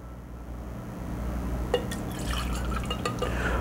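Captain Morgan White rum, measured out in a small shot glass, poured into a cocktail shaker: a soft liquid trickle with light drips and faint glassy clinks, close and quiet, with no talking.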